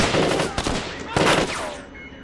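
Gunfire during an escape in Splinter Cell: Double Agent on Xbox 360, a few loud sharp shots and a short burst close by, with a voice briefly heard before the sound fades.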